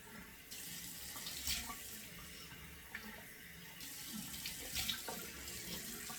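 Water runs steadily from a tap in a newly remodeled bathroom, with a couple of brisk splashes as hands throw water onto a face, close and continuous, with no talking.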